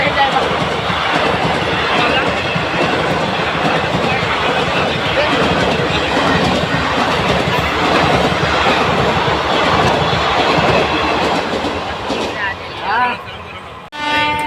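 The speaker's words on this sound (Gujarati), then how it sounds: "તો મિત્રો બે બાજુથી ટ્રેન આવે છે" Trains rumble past a closed railway level crossing with loud, continuous rolling and clattering of wagons at close range, steady for most of the stretch before a horn blast near the end, with people talking underneath.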